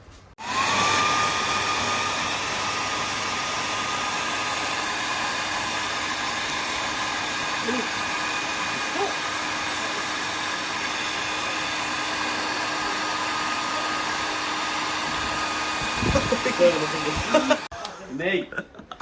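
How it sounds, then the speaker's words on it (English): A hair dryer blows steadily and loudly for about seventeen seconds, heating tint film being stretched over a car fog light, with faint voices and a brief chuckle near the end before it cuts off. "The hairdryer will heat it up and it will be stretched over"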